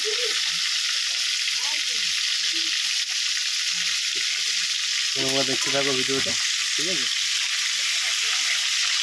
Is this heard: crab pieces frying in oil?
yes